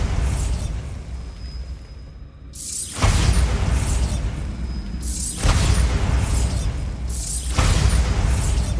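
A Bombarda blasting spell from Hogwarts Legacy detonates in loud, sudden bursts, with three broadband blasts about every two seconds and heavy rumbling decay between them, preceded by a brief hush and a thin high tone.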